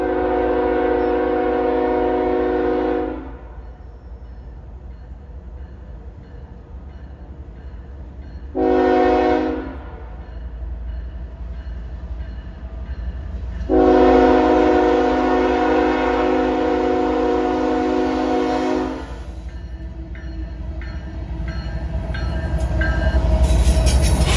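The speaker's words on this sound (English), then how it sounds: "Short train, I think it's 261 heading west with one car." A Norfolk Southern ES44AC locomotive leading a one-car westbound train through Manville, New Jersey sounds three loud horn blasts: a long one, a short one, then another long one, all over steady rumbling engine and rail noise that rises at the end.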